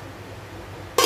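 A lid is set over a pot of fish cooking on the stove, a short metallic clank that arrives abruptly after a quiet kitchen hum.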